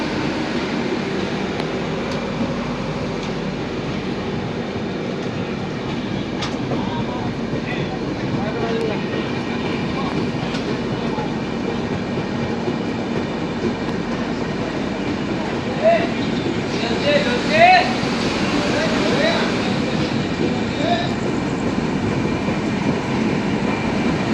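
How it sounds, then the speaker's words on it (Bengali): Kanchankanya Express running after leaving Rampurhat Junction, a continuous, even rumble of the moving train heard from inside the coach, with a couple of brief louder knocks partway through. "রামপুরহাট জংশন থেকে আমাদের ট্রেন ছেড়ে দিল"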